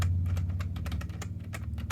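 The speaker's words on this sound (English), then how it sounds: "then you start typing" Fast, light clicking of keys on a computer keyboard, close and steady over a low electrical hum, with no voices.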